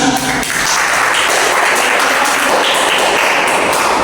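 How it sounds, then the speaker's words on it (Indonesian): An audience at an Islamic prayer talk bursts into sustained, dense applause, loud and continuous from start to finish with no voices over it. "Harus tepuk tangan."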